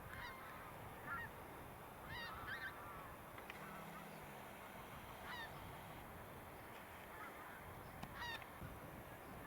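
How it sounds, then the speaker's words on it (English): Geese honk as a flock flies over in V formation above a seawall on the Norfolk coast near Heacham, giving scattered faint calls in short bursts over steady outdoor wind noise. "Classic V shape of geese there."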